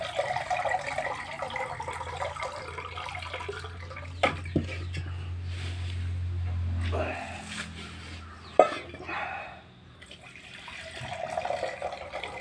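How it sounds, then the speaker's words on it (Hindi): Water from a bucket being poured over rice while it is washed, splashing in a steady stretch of several seconds at close range, with a person talking over it. "अभी मैं पानी डाल रहे हैं"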